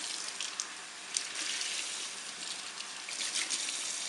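Water runs and splashes softly inside a vinyl bathtub as soap is rinsed off, a quiet, steady gush with small fluctuations.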